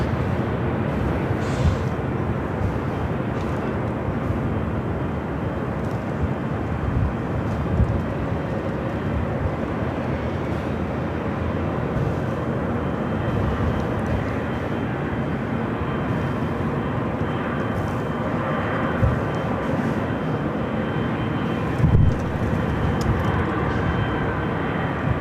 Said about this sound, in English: Virgin A380 heading back to London Heathrow, also starting its taxi